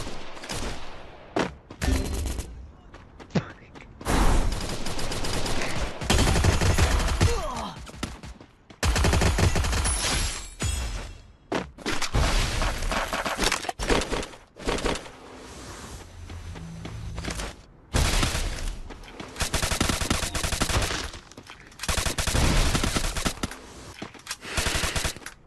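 Rapid bursts of automatic gunfire rattle through a shooting video game, heavy volleys of machine-gun fire broken by brief pauses and scattered single shots, loud and close with no talk over them.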